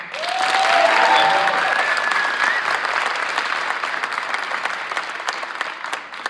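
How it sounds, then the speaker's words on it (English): An audience at a high school signing day for college student athletes in Stuttgart breaks into loud, sustained applause. A dense wash of clapping with a few whistles rises quickly, then tapers gradually over about six seconds. "Now you can clap."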